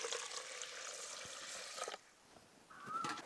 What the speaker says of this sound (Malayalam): ഇനി നമുക്കിതിൽ കുറച്ച് വെള്ളം ഒഴിച്ച് കൊടുക്കാം